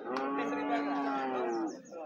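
A cow lowing at a cattle market, one long, close, loud moo with a slight drop in pitch before trailing off, faint background noise after.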